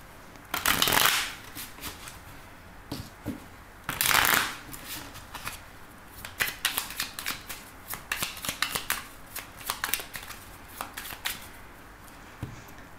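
Oracle cards are shuffled close up: two riffling bursts followed by a long run of quick papery slides and taps as the deck is worked by hand, with no talking.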